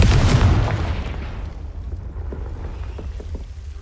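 A Confringo fire-blast spell is cast in Hogwarts Legacy: a loud, close, booming burst that rolls off into a rumbling tail, with faint crackles trailing behind.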